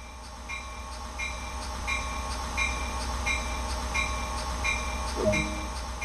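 A video game passenger train on the Peninsula Corridor in Train Sim World 2 rolls steadily along with a low rumble and a regular clicking rhythm of wheels over rail joints, plus a brief tonal squeal near the end.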